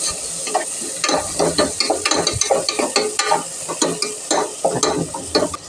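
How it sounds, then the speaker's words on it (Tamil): Chopped tomato sautéing in a pan for chicken curry, a close hiss of frying under repeated scraping and clattering stirs of a spoon against the pan. "இப்போது நல்லா வசக்கி விட்டுக்கலாம்"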